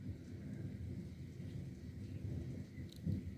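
Thunder from a strong, highly electric storm in Linselles on May 11, 2021 forms a steady low distant rumble under rain, with one slightly louder swell near the end.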